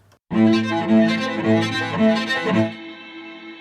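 A solo cello sample from Sonixinema Contemporary Soloists plays a few bowed, rhythmic notes and then stops, leaving a long, smooth reverb tail that rings on and slowly fades.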